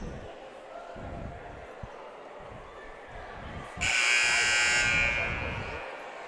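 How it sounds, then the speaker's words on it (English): At a boys' high school basketball game, amid arena crowd murmur and a single ball bounce, a loud electronic 15-second timeout buzzer sounds and holds for about two seconds before fading. "There's the 15-second buzzer."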